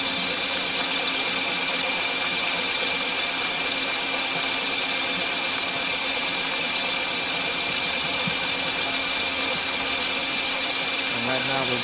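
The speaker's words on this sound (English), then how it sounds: "now we're forming a tube, and it's going to go right through the forming head there" A CCM9112 tube forming machine runs at a slow 500 RPM, pushing an angular-design tube through its forming head with a steady mechanical drone and hum, loud and continuous throughout, with a brief knock near the end.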